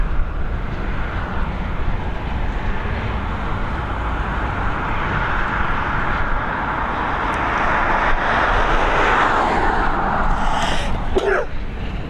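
Steady, loud roar of a TUI airliner departing Dublin Airport, a broad continuous engine rumble that swells slightly toward the end, heard at a distance without talk.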